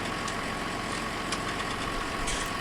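Tractor engine idling in a farming video game, a steady low rumbling drone with slight vibration, constant and close, no talk.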